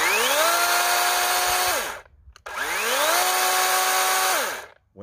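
A chainsaw cutting through a 2x4, two loud bursts in which the engine revs high, bogs slightly in the wood, then winds down, separated by a brief pause.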